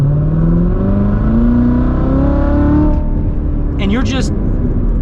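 A manual Corvette C7 Z06 accelerates hard in second gear, its engine note climbing steadily over several seconds before a shift, loud and close, with someone talking over it briefly near the end.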